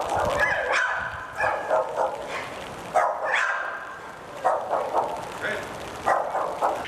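Eight dogs seized after attacking an 83-year-old woman in her home near Padua bark in repeated short bursts, several animals yapping and yipping at mid distance. The bursts are separated by brief pauses, with a news voice over them.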